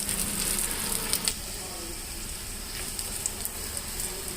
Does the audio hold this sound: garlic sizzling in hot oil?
yes